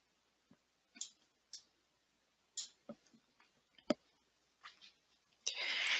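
Sharp computer mouse clicks while building an OLAP cube on a software dashboard: a dozen or so scattered, close, crisp clicks at irregular intervals, alone with no talk, ending in a short burst of hiss.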